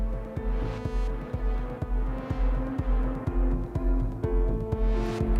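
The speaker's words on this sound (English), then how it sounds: "Right now what you're hearing is still the synths running." Eurorack modular synthesizers sequenced from Cubase play melodic techno: a deep sustained bass drone, punchy evenly spaced kick hits, and swelling filtered sweeps, steady and fairly loud with no talking.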